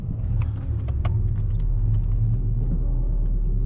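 Inside a 500HP Toyota Supra, the engine gives off a deep, steady rumble at cruising pace. Faint clicks and rattles from the cabin sit over it, and no one speaks.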